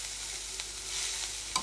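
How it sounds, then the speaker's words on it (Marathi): Spices spluttering in hot oil as tempering for a cowpea curry, a soft continuous sizzle with a couple of faint sharp pops, heard alone without talk. "बस फोडणीला टाकलंय"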